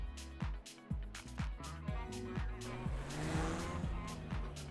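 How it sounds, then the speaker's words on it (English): A McLaren GT3 race car laps Fuji in a racing video game, its engine revving up and down through repeated quick gear shifts, with tire squeal and a steady close drone throughout. "Let's go to the race setup and try some laps in the McLaren."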